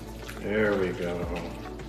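Water trickles slowly into a thick, pasty peanut sauce for carb-free Thai peanut noodles, a short gentle pour heard close by with a faint voice in the background.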